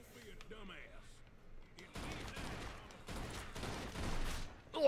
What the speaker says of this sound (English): He shot me in the chest.